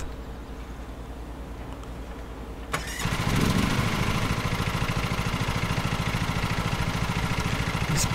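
A lawn mower engine in the video game Lawn Mowing Simulator cranks and catches near the three-second mark, then settles into a steady, loud idle drone.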